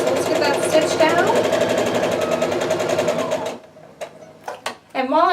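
A sewing machine stitches a quilt block seam with a fast, steady mechanical whir for several seconds, then stops, leaving scattered clicks and a voice speaking.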